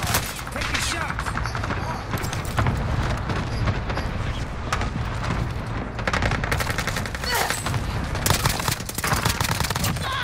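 Gunfire in a squad-based shooter video game: dense, rapid automatic bursts and single shots going on continuously and loudly, mixed with game radio voices speaking.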